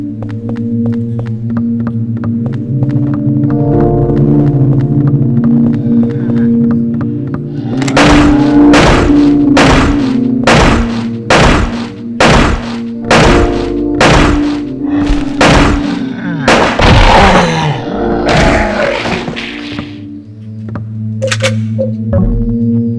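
Gunfire in the Silent Hill 4 video game: a rapid series of about a dozen loud, booming shots over a low droning game ambience, followed by a couple of scattered later shots.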